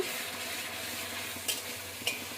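Chicken masala spitting in hot oil makes a constant close hiss and crackle, with two brief sharper pops or scrapes near the end.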